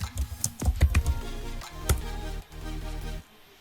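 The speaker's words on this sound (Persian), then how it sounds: "کامندهای CMD رو باید شما به صورت دقیق و به ترتیب تایپ کنین" Rapid keystrokes on a computer keyboard as disk commands are entered at a command prompt, a quick burst of close clicks followed by a few spaced taps and a sustained hum.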